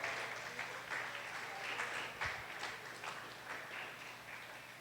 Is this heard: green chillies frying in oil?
no